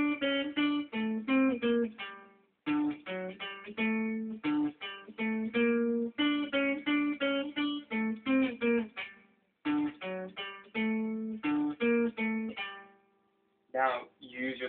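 Für Elise picked on a guitar, a run of clear single plucked notes in a steady melodic rhythm, close and alone, with brief pauses between phrases.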